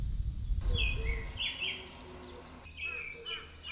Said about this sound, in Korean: 새들의 목청이 나날이 우렁차지는 봄.